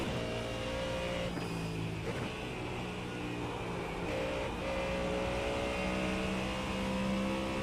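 A race car engine in a racing video game drones steadily at high revs, a sustained even tone with slight pitch shifts through corners, continuous and without pauses.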